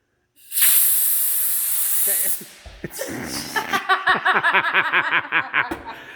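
A sustained aerosol spray hisses loudly for about two seconds, followed by snickering laughter and short bursts of breathy voices.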